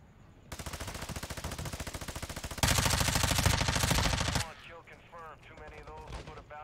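Rapid automatic gunfire in Call of Duty DMZ: a long, loud, evenly rhythmic burst, then an even heavier stretch of fire that cuts off abruptly, followed by quieter chatter and movement.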